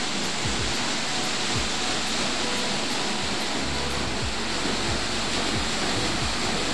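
Water rushes through a farm irrigation channel feeding a chickpea field, a close, constant broadband gushing with no pauses and no voices.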